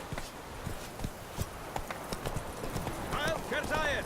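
Roach, the horse in The Witcher 3 video game, walking with a steady clip-clop of hooves on hard ground, while a voice speaks near the end.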